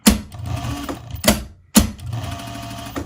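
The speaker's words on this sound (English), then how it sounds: "Stitching right up to the other side of this point." Sewing machine stitching fabric for a cardinal ornament, running in three quick bursts with brief pauses between, close and clear with no talking.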